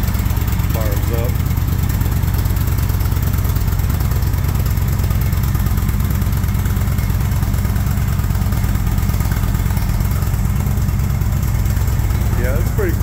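A 1974 Ford Bronco's newly installed fuel-injected engine runs steadily after start-up, a continuous close, low idle rumble with faint voice-like sounds over it.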